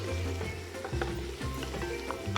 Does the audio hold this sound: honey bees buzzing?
no